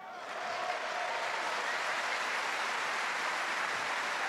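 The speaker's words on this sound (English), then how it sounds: "But we did see the applause from Rostov in the corner." Audience applause at a table tennis match in the men's singles of the 2017 World Championships, a steady dense clapping that holds evenly throughout with no talk over it.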